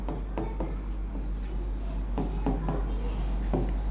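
Pen writing on a worksheet, soft scratchy strokes in short bursts close by, with a low steady hum underneath.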